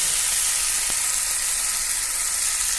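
Fiddlehead ferns frying in a pan of hot oil for an Assamese stir-fry with egg and tomato, a steady bright sizzle filling the clip with one brief clink partway through.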